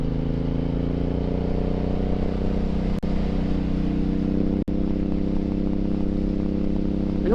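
A Suzuki M109R motorcycle riding fast on a cold day, its engine holding a steady loud drone with dense wind rush throughout and two brief sharp dropouts.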